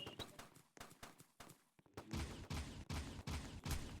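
Rapid bursts of video game gunfire crack out in a steady rhythm, a gun with unlimited ammo firing repeated loud shots that grow denser and heavier in the second half, with no talking over them.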